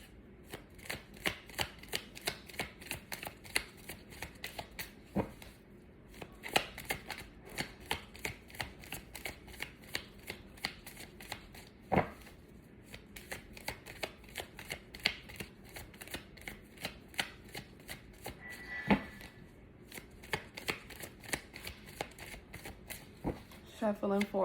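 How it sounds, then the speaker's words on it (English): Tarot cards shuffled repeatedly in a fast, steady riffling rhythm close up, with a few sharper snaps along the way. "Shuffling for Aquarius."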